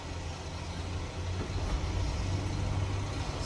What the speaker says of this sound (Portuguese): Vou dar a partida pra você escutar o ronco do bichão, ó